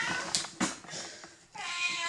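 A house cat meows insistently for food in a home kitchen: several close, loud meows in uneven bursts, with a longer drawn-out cry near the end and no talking.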